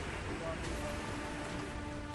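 Heavy monsoon rain pours down in Kangra, Himachal Pradesh, during flooding and landslides, making a dense, continuous, fairly distant patter with no breaks.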